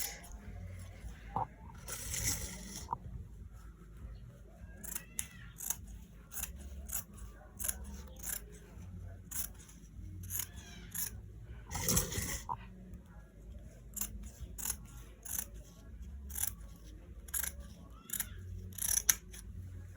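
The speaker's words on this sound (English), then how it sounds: "I'm just trimming this out to make it straight" Scissors trimming fabric for sewn shorts, with crisp snipping cuts in irregular bursts and quiet rustling of cloth between them, heard close up.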